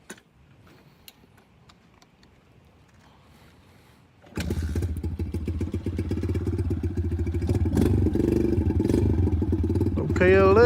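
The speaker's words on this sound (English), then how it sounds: "See if I can still wheelie with the brand new clutches on here." Kawasaki KLX110 dirt bike with a new semi-auto clutch, quiet at first, then the small engine fires up and revs loudly and steadily, climbing toward the end.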